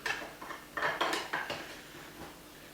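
Plastic lid of an electric skateboard power cell enclosure sliding back into place, giving a few close, light scraping and clattering knocks in quick succession, then fading.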